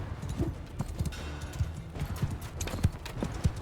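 Horses gallop in Mount & Blade II Bannerlord, their hooves clip-clopping in quick, uneven clusters of hits, close and fairly loud, over a low background hum.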